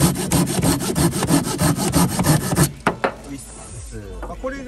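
A Silky Pocket Boy pruning saw with an all-purpose blade cuts wood in quick, regular rasping strokes close by for nearly three seconds, then stops, leaving scattered handling sounds and a brief bit of talk.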